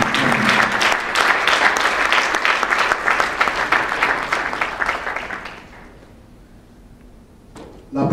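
Audience applause at a book-signing conference, loud, dense clapping from the room that goes on for several seconds before fading to scattered claps and near quiet.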